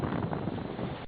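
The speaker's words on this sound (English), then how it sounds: "like right now, and on every single leg I experience at least 30, usually 35 knots of wind in gusts" Strong gusty wind buffets the microphone aboard a sailboat on a solo ocean passage in the trade winds, a loud, steady roar of rushing air that cuts off abruptly.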